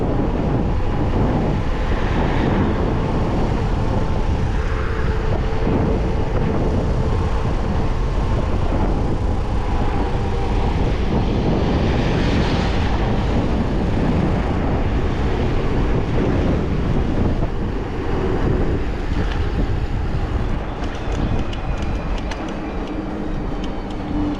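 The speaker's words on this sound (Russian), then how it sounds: "Ветер теплый." Steady warm wind roars and buffets the microphone near the coast around Yalta and Gurzuf, Crimea, with broad continuous rumble and hiss for the whole stretch and no voices.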